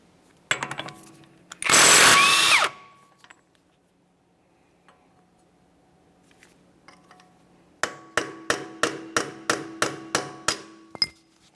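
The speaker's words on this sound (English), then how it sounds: "Use a hammer and punch to break the axle free from the wheel bearing located behind it." A single loud hit and a sustained grinding rattle, then after a quiet stretch a rapid series of about ten ringing metal hammer strikes on a punch, freeing a front axle from the wheel bearing on a 1994-1997 Honda Accord.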